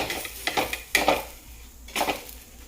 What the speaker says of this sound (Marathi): बघूया आता आपण पलटी मारून खालची साईड.